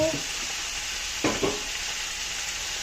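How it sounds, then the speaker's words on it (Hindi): Food fries in a pan while Mediterranean pasta is being made, a steady soft sizzle up close broken by a couple of brief stirring scrapes, with no one speaking. "अब इसको फ्राई किया।"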